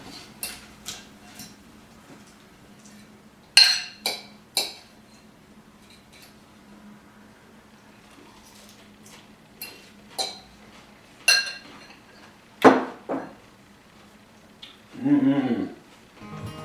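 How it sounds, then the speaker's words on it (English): A bowl of salad being tossed with dressing produces sparse utensil clinks and scrapes against the bowl, coming in separate bursts over a quiet background. "After I give it a taste, I'll mix this into the whole bowl."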